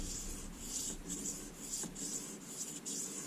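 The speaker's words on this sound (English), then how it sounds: "it's kind of bumping into the stone also" A knife blade worked across a King 6000 grit waterstone, giving a soft, steady scraping and rubbing made of repeated strokes in an even rhythm, close and fairly quiet, with no talking.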